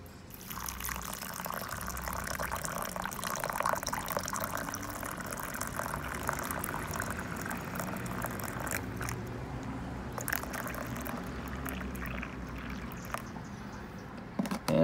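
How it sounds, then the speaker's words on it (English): Water poured into a homemade model kettle lake as groundwater makes a continuous splashing, trickling stream for about fifteen seconds, steady and close with small bubbling variations. "I'm gonna add my groundwater."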